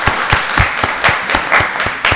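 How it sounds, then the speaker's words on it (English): At a county board of commissioners meeting, an audience claps loudly and close, distinct hand claps in a fairly regular rhythm mixed with a broader patter of applause. "Let's give them a round of applause."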